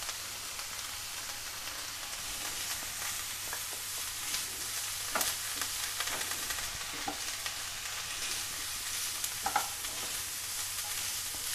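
Tomatoes cook in a pan for crispy Gujarati vegetable patties, giving a soft continuous sizzle with irregular scraping stirs and small crackles, fairly quiet and close.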